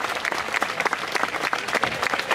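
A crowd claps steadily and fast at a Midsummer Eve (Sankt Hans) gathering around a fire, dense overlapping hand claps filling the whole stretch, fairly loud and close, with a few voices faintly mixed in.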